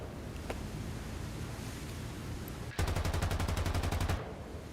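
Aircraft machine guns fire in the War Thunder video game: a single rapid, evenly spaced burst of about a second and a half, loud and close, cuts in over a steady engine drone and then stops.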